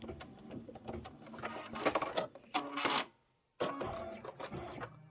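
A computerized embroidery machine stitches a quilt block, its needle chattering in rapid mechanical bursts at close range, stopping briefly into silence before the stitching resumes.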